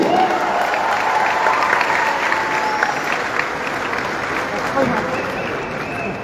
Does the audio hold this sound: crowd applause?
yes